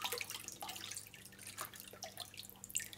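Liquid trickled gradually into a homemade liquid soap mixture while it is stirred, giving faint soft drips and light splashes close by in a quiet room.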